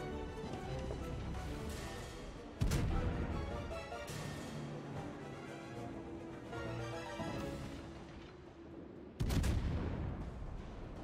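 Gunfire from the ship combat game Salem: repeated loud cannon-like blasts and volleys, with two especially heavy booms standing out amid ongoing battle noise and rumble.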